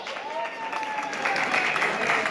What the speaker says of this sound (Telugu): చప్పట్లు మారుమోకపోవాలి